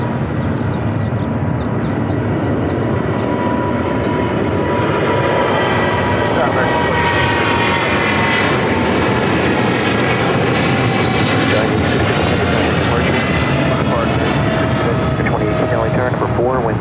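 An airplane lands at LAX, its engines roaring loud and steady throughout with a low rumble, while air traffic control voices come over a radio.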